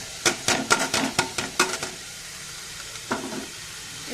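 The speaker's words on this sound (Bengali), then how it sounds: "একটু ভাজা ভাজা হলে তার মধ্যে পনিরটা দিয়ে ভালো করে ভেজে নিতে হবে" Paneer fries in butter in a kadai, heard as a low sizzle beneath a quick burst of clattering spatula scrapes against the pan, then a quieter pause and a few more stirring strokes.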